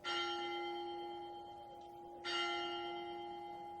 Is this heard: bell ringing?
yes